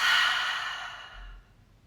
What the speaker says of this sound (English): Take an inhale. Exhale out your mouth.